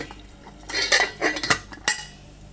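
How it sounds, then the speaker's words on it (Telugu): Metal pot lid set onto a pot of brinjal curry on the stove, a few close clanks and clinks over about a second, with a final sharp knock, then quiet. "వంకాయ కర్రీ మీద మూత పెట్టేసుకుందాం"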